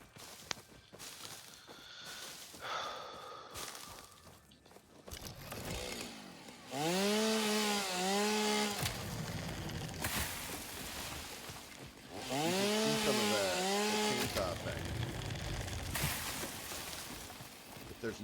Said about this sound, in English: I have chainsaws though.